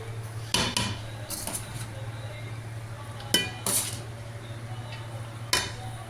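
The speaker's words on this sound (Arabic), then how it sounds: "هنا كبسنا التمن، طبعا كبسته حيل مثل ما تشوفون" Cooked rice in a pot being pressed down firmly into a layer over fish, heard as a few distinct sharp clinks and scrapes of a utensil against the metal pot, with a low steady hum running underneath throughout.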